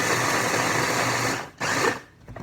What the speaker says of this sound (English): I've put it into my Ninja with about 1/4 cup of baking soda. And we're just going to blend that down